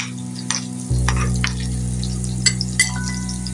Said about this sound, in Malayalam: വറ്റമുളകും കൂടെ ഇട്ട് കടുക് പൊട്ടിച്ച് വയ്ക്കാം